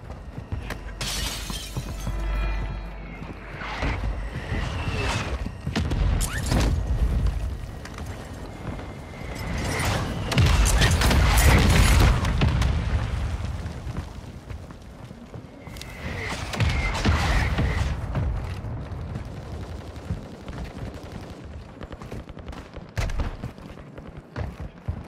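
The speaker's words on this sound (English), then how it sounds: "Mortar strike is inbound." Mortar strike explosions in Call of Duty: Modern Warfare II, heavy booming blasts and shattering debris rolling in several bursts over about 25 seconds, loud and close with dense low rumble.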